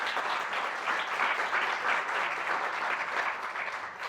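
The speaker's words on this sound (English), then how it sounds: "Let's just give Tricia a round of applause." Steady, even audience applause in a hall at a climate solutions talk, a continuous wash of many hands clapping at moderate level from start to finish.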